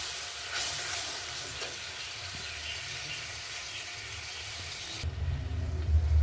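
Water splashes into spice paste frying in a pan for a fish curry (bata macher jhal), setting off a loud, steady hissing sizzle that cuts off abruptly, followed by low rumbling.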